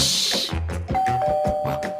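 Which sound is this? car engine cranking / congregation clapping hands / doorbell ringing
doorbell ringing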